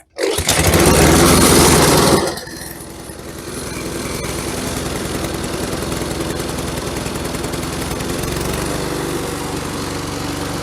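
A Honda engine on a 21-inch MTD self-propelled lawn mower catches on choke and roars loudly for about two seconds, then settles into a steady, even running drone that continues close by.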